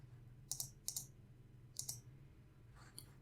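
Crisp computer mouse clicks on a desktop, arriving in quick pairs and singles, close and distinct over a faint low hum, with no talking.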